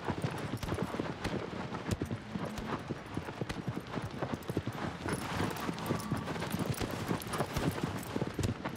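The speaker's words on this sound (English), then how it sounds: "I'm riding on a horse." Rapid, steady clip-clop of a black horse's galloping hooves in Shadow of the Colossus, dense and continuous throughout, with a faint game-like ambience behind.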